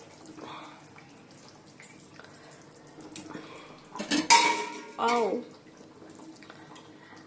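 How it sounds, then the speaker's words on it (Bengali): Pieces of katla fish go into a boiling fish curry, making two short, loud splashing bursts in the middle, surrounded by quiet kitchen sounds and soft speech. "দেখো ঝোলটা ফুটে গেছে এবার মাছগুলো আমি দিয়ে দিচ্ছি কাতলা মাছ"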